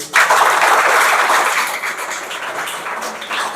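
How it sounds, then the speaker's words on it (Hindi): A classroom of students claps loudly and continuously, the applause slowly thinning and fading before a brief fresh surge at the end. "तालियां बजाओ इस बात के लिए"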